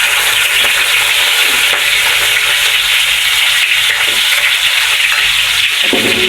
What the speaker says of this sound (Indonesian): Pertama-tama kita tumis dulu bawang merah sama bawang putih yang sudah kita iris tadi